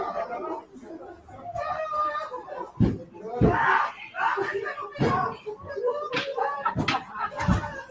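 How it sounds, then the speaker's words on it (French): A played recording carries screams and thudding blows mixed with chatter, the sharp impacts landing irregularly through a noisy, crowded scene. "Il y a des cris, puis il y a des bruits de coups."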